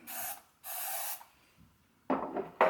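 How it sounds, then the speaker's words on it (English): Non-stick baking spray hisses out in three short bursts, close and crisp, with quiet pauses between. "spray the bread pan with no-stick baking spray"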